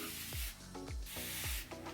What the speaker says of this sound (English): This is a continuous flow spray bottle